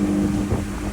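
A 115 horsepower motorboat engine drones loudly and steadily with a low hum on the Chobe River, mixed with rushing wind noise, for about a second.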